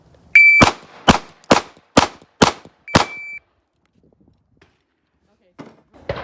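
Six sharp Smith & Wesson pistol shots fired in quick succession during a timed grip drill, preceded by a start beep and followed by quiet, with faint handling noise at the end.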